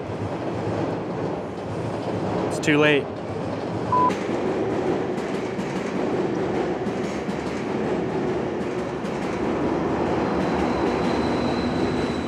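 A train rumbles steadily nearby with a continuous low roar and rail noise; a brief whistle-like sweep and a short voice appear early on.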